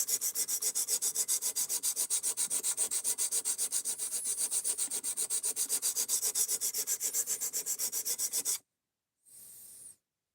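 A knife blade is drawn steadily across a Work Sharp sharpening stone in fast, even back-and-forth rubbing strokes, close and loud for about eight seconds, then it stops and one brief final stroke follows.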